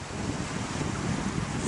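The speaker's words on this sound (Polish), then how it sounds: "Jezioro położone w Kirgizji ze słodką wodą, wspaniałymi falami." Waves wash steadily against the south shore of Issyk-Kul, a freshwater lake in Kyrgyzstan, forming a continuous loud rush of surf mixed with wind buffeting the microphone, with no talk.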